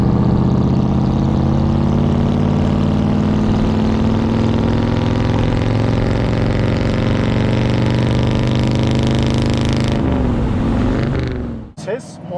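A 1957 Ford Custom 300 Fordor drives along with a steady, full engine drone; people talk over it, and a brief clatter breaks in near the end.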